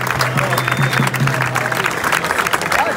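Audience applause fills a basketball team's farewell party for the Crailsheim Merlins, steady dense clapping throughout with a low hum and some voices mixed in.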